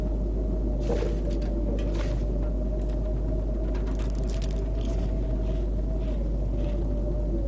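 A snowstorm blows in The Long Dark as a steady, loud low roar of wind, constant throughout, with faint higher gusts and crackles layered over it.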